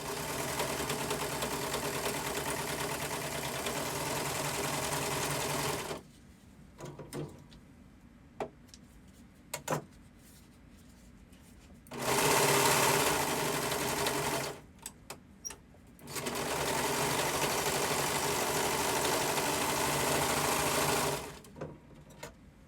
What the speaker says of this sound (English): I'm just gonna run it through the serger and see if we can change it from black to white.